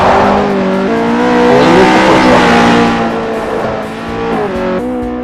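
Ferrari 458 Italia in the Forza video game drifting around a track corner, its engine loud and close, revs rising and dropping through gear shifts with a faint tire squeal blended in.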